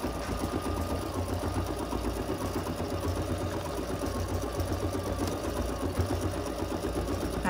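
Embroidery machine stitching out a Christmas reindeer design with black 60-weight bobbin thread, a steady, fast mechanical whirring hum with rapid needle rhythm, close and continuous throughout.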